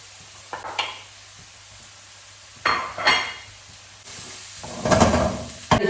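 Onion and garlic sizzling in a frying pan, the base for spicy pork adobo in coconut milk, with several bursts of stirring and sizzling that swell and fade, spoon scraping the pan between quieter moments.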